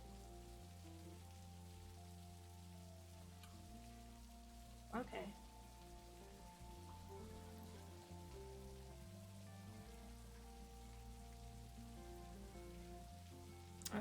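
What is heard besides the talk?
rain in the video game Necrobarista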